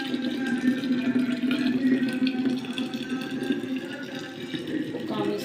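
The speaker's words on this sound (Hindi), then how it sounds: "मैं पहले से ही केटल में गर्म पानी भर के रख लेती हूँ" Water runs steadily into a kettle at home, a continuous, moderately loud pouring and filling sound with a slight tonal gurgle that holds throughout.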